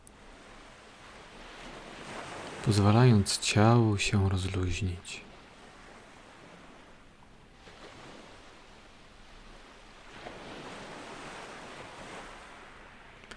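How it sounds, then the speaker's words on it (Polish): Ocean waves wash softly in the background, a low, steady surf hiss that swells gently near the end, while a calm voice speaks over it for a couple of seconds early on. "Słuchaj się w szum fal w tle lub wyobraź sobie spokojne morze."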